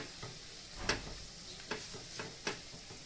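Chopped onion, tomato and ginger fry softly in a home kitchen pan, a faint sizzle punctuated by a few sharp scrapes and taps of a spatula stirring, with no talking.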